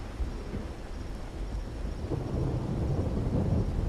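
Storm weather in the video game Wuthering Waves, a continuous low rumbling roar of wind and thunder with rain-like hiss, steady and fairly loud with no talking.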